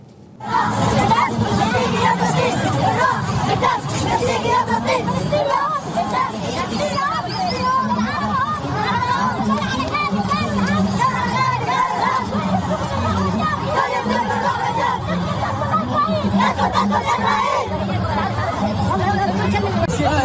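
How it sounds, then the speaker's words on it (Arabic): Moroccan football supporters in a packed crowd chant together about Palestine, a dense, steady roar of many voices with rhythmic surges, loud and continuous throughout. "كان ليها هتاف شهير خلونا نسمعه مع بعض"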